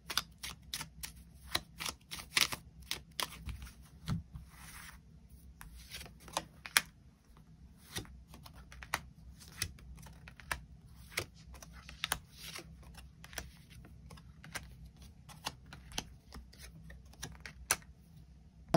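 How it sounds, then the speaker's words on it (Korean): Tarot cards are shuffled and drawn, making soft, irregular clicks, flicks and snaps that come close together over a quiet background, with no voices. "일별로 월요일부터 일요일까지 어떤 하루를 보내게 될지 추가 카드 뽑아보도록 하겠습니다"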